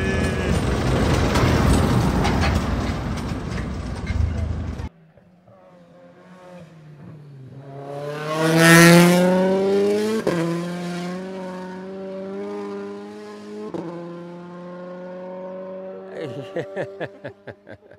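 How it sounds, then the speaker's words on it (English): A WRC rally car at the 2024 Safari Rally Kenya revs hard while warming its tyres and brakes, starting with a loud broadband roar, then rising and falling engine pitch sweeps, ending in sharp rapid pops. "doesn't he, Takasan, when he's warming his tyres and he's warming his brakes up"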